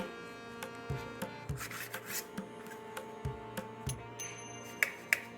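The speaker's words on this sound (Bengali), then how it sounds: "পাউরুটির সাইডগুলো আমি কেটে কেটে নিচ্ছি" Knife slicing the crusts off two slices of bread in a home kitchen, heard as repeated short rasping strokes and soft taps against the board, close and fairly quiet, with no talking.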